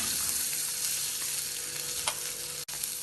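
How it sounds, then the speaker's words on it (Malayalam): Moong dal frying in ghee in a pan, a continuous soft crackling sizzle with faint stirring scrapes and no talking. "നെയ്യ് ചൂടാവുമ്പോൾ ഇതിലേക്ക് ആദ്യം ചെറുപയർ പരിപ്പിട്ട് വറുത്തെടുക്കാം"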